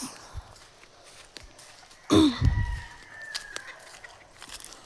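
Chickens cluck softly among scattered rustles and footsteps outdoors, then a rooster lets out a loud, close crow midway that trails off into more clucking.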